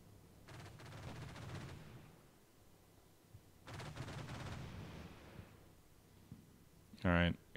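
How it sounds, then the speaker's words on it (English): Explosions and gunfire in the Combat Mission: Shock Force 2 war game come as two rumbling, fading swells of blasts at a distance, followed by a sudden loud, sharp burst near the end. "More explosions out this way."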